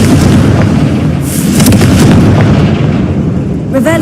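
Fiery spell blasts in Hogwarts Legacy, a loud booming burst followed by crackling bangs and a shorter pop near the end, thick rumbling game noise throughout.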